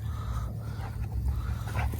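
Dogs inside a car pant steadily with rapid, breathy rhythm, close and continuous over a low rumble, with a few faint whimpers.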